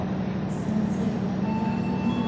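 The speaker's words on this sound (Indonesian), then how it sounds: "Sawung Galih akan diberangkatkan dari stasiun Kroya menuju ke arah stasiun Purwokerto" The Sawung Galih passenger train at Kroya station in Indonesia gives a steady low rumble with a faint high whine, continuous and moderately close, with no talk.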